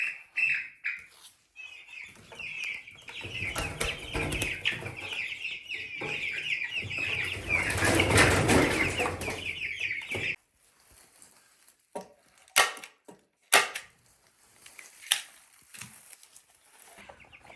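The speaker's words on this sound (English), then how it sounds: "There are 18 chickens in there." Cornish Cross meat chickens, 18 birds in their third week in a brooder, clucking and chattering together close by, a dense busy burst in the middle that then thins to scattered pecking taps and rustles.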